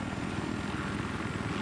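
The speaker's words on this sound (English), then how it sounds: "Chopper, dude. Chopper. Watch out. He's overlooking us." A helicopter in a video game drones loudly and continuously overhead, its rotor chop steady and close.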